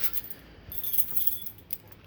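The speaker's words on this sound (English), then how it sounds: "once I grab my keys" A set of keys for a 1964 Oldsmobile Dynamic 88 jangling close by, light metallic clinks and rattles in quick irregular bursts.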